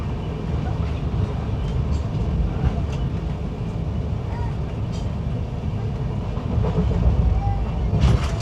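Netravati Express passenger train running between Lokmanya Tilak and Thiruvananthapuram Central, heard as a steady, loud rumble of wheels and carriage noise from on board, with faint rattles throughout.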